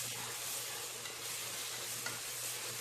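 Ginger garlic paste fries in ghee for mutton biryani, giving a soft constant sizzle and hiss with faint stirring scrapes, heard alone.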